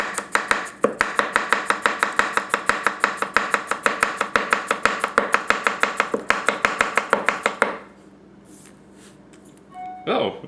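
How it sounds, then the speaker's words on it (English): A Tanaka Kurouchi 210mm gyuto knife chops through a carrot on a cutting board in a fast, steady run of sharp knocks for about eight seconds, then stops, followed by quieter handling sounds. "So let's see how it chops through a carrot."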